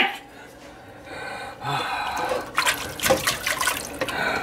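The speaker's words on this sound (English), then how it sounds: "there's some water going" Water runs from a tap after a quiet start, swelling into a steady splashing flow with a brief gasp near the middle; no clear talk over it.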